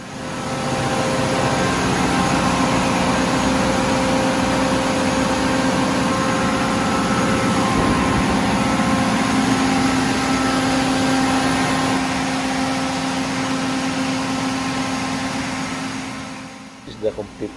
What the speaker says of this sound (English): Okay, that's it. The generator is started.